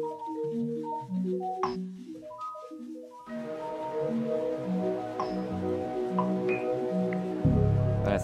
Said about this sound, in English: It's an ARP sound from Analog Labs.